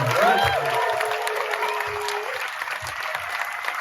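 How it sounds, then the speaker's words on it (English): An audience at a film screening Q&A applauds, a dense continuous patter of clapping hands that stays fairly loud and even throughout, with a faint whistle-like tone early on. "so one more round of applause for the amazing."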